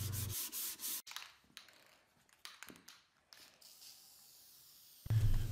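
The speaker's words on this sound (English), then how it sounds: "I give the entire project a hand sanding down to about 220 grit" Scratchy rubbing strokes of 220-grit sandpaper on a solid cherry bookcase, in short uneven bursts with pauses between, close and fairly quiet.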